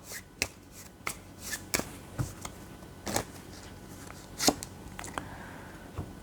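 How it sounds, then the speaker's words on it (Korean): A deck of sixty soul message cards used for a tarot reading is shuffled by hand up close, a series of sharp, irregular riffles and flicks spread across several seconds with no talking. "제가 마지막으로 소울 메시지 카드 한번 보도록 할게요."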